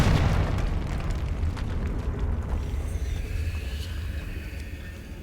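The Confringo explosion spell bursts in a video game as a loud, close blast that fades into a long rumbling roar over about five seconds.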